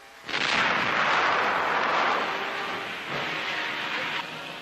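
Ammunition in a burning tank explodes on a World War II Pacific battlefield, heard in a wartime newsreel as a loud sustained roaring rumble of detonations that begins abruptly and stays heavy for several seconds, with no voice over it.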